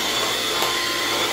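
A solar-powered vacuum cleaner runs with a steady, dense whooshing motor roar, close and constant throughout, with no talking.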